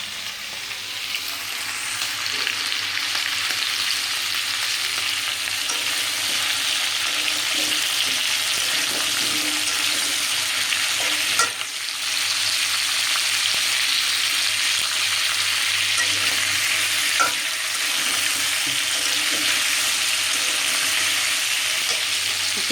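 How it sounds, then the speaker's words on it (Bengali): Potatoes, cauliflower and tomato pieces fry in a pan with a steady, loud, close sizzle that holds evenly throughout, with occasional stirring bumps and no voices. "আর এই যে আলু, ফুলকপি, টমেটো একটু ভেজে নিচ্ছি"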